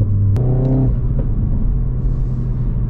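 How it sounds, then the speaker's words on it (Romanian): Car exhaust with an exhaust valve flap, a deep rumble as the engine revs up briefly, then settling into a steady low drone close by. "se aude într-un fel evacuarea asta, jur"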